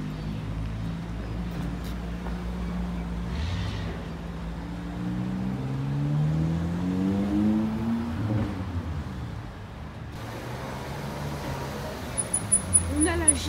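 A Ferrari GTC4 Lusso drives off, its engine rising and falling through a revving sweep heard at a distance outdoors among background traffic, with people talking over it.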